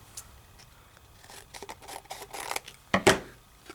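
A paper card is cut in half with scissors for scrapbooking, with faint rustling and snipping that builds to two louder, crisp cuts near the end.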